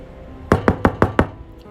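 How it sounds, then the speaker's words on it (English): Five loud, evenly spaced knocks on a bedroom door ring out close by in a quick steady rhythm, then stop, with nothing else heard. "The knocks on Liz's bedroom door were loud and woke her up from her memory"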